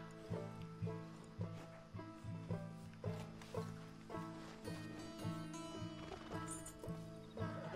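Horses gallop in Red Dead Redemption 2, a steady rhythmic drumming of hoofbeats that repeats throughout, fairly faint, with a snort or whinny mixed in.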